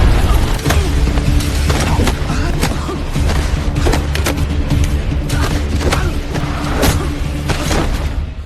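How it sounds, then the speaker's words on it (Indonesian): A bomb blast in an action film scene rumbles with a heavy, sustained low roar, punctuated by repeated sharp thuds and crashes of debris, loud and continuous throughout. "tiba-tiba saja bom yang dipasang bos pun meledak"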